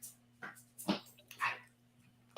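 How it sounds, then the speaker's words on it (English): Dogs bark in the background in several short, separate bursts, with a steady low hum running underneath. "Your dogs are as loud as mine."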